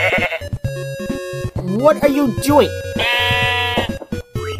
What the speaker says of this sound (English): And of course I just let white sheep out.